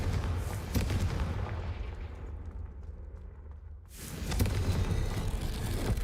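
A loud, booming explosion from the Confringo fire spell in Hogwarts Legacy. A sustained, rumbling roar fades into a brief lull, then surges back with a heavy second blast.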